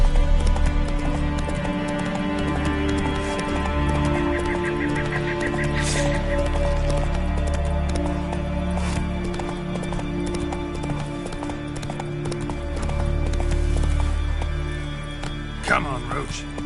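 Roach, a horse in The Witcher 3, clip-clops along with steady hoofbeats and a brief whinny, set under game music and ambient sound.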